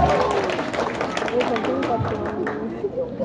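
Studio audience at a Korean radio show gives a round of applause, dense overlapping claps filling the clip at steady loudness with voices mixed in.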